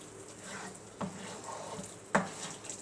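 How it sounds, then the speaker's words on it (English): A spoon mixes enchilada sauce into ground turkey in a pan, making a soft, steady stirring and sizzling sound with two sharper knocks of the utensil against the pan, close up and with no talking. "So now I'm just going to mix this all in."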